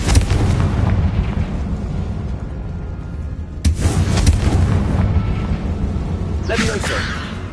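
Confringo fire spell blasts in Hogwarts Legacy: heavy booming explosions with a sharp burst partway through, rumbling continuously up close, with voice-like sounds layered over the game noise.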